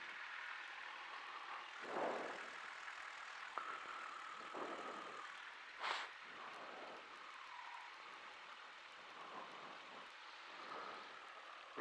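A light aircraft's propeller engine runs at low idle around 900 to 1,000 RPM while taxiing at a small airport, a quiet steady drone with a few brief swells and faint bumps, no speech.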